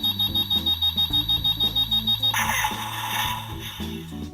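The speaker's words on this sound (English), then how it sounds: "So you get this really loud beeping sound like it's charging up, and then it finally fires" A loud electronic toy sound from a Power Rangers S.P.D. Red Ranger toy cannon: rapid repeated beeps like something charging up, then a harsh burst of noisy blast effect, with tones continuing after.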